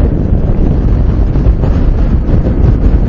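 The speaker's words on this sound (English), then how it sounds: "It's very windy today" Strong wind buffets the microphone on a motorcycle ride in a steady, roaring rumble that never lets up.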